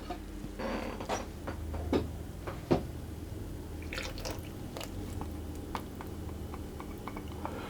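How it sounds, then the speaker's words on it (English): Melted butter is stirred into flour in a bowl until it turns to dough, giving quiet, soft squelching with a few scattered knocks against the bowl and no talking. "I'm going to mix that around until it forms a dough basically."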